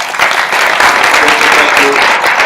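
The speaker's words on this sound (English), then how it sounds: "a huge round of applause for Rachel and the dynamic group here" Applause from the audience for a panel at the 2013 Global Partnerships Forum, steady dense clapping throughout, loud and close.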